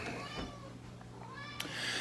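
Several cats meow in a dedicated cat room, with faint rising and falling calls over a steady hum and some background talk.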